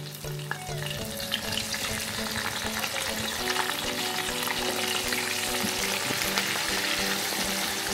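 Dried sepat fish fry in a pan of oil, crackling in a dense, continuous sizzle with occasional stirring sounds. The sound is close and steady throughout, with no talking.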